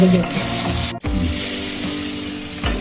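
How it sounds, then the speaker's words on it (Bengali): Food fries in a pan while being stirred, a steady close sizzle with scraping stir strokes and one brief break in the sound. "একটা দিয়ে ভাজি খুব সুন্দর করে"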